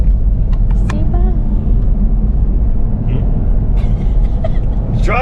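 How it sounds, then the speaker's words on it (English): A car drives along a winter road near Sunriver in Bend, Oregon, heard from inside as a loud, steady low engine and road rumble, with a few faint voices and light knocks over the top. "Driving here."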